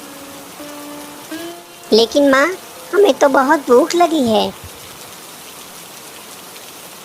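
Cartoon rain falls as a steady, even hiss beneath a child's high-pitched animated voice speaking in Hindi, continuing alone after the voice stops.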